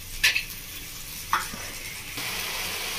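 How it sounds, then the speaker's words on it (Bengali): Spice masala fries in a pan, a steady sizzle with a couple of sharp metal scrapes from stirring, then the frying swells a little louder near the end. "মশলা দিয়ে একটু ভালো করে কষিয়ে নেব। মশলাটাকে ফুটতে দেবো।"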